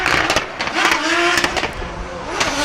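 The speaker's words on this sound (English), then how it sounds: "Lots of action coming from the exhaust." A drift race car at an FIA Motorsport Games event at Circuit Ricardo Tormo roars close and loud, its exhaust crackling and popping in sharp bursts over a steady engine drone.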